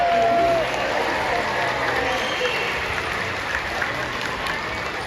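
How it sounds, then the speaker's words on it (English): An aquarium audience at a bottlenose dolphin show claps steadily in a broad, sustained wash of applause, with a brief whistle-like tone at the start and crowd murmur underneath. "How about another big round of applause for a dolphin?"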